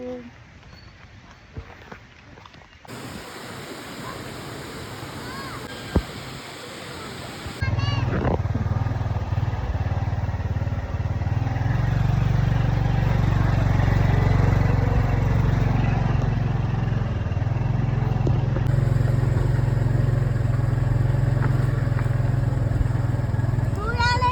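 A motorcycle engine starts up partway through and then rumbles steadily and loudly at close range, with a little talking and rustling before it begins.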